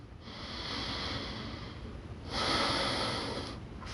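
Two long, breathy exhalations during a core breathing exercise, close and fairly soft, the second stronger than the first, with no talking over them.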